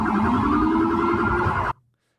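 A police SUV's loud electronic siren wails steadily close by as it nears protesters, with a warbling, harmonic tone, then cuts off abruptly, leaving near silence.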